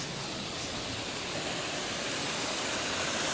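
Compressed air blowing water out of an inground sprinkler zone during winterizing, a steady broad rushing hiss and spray, continuous and close throughout.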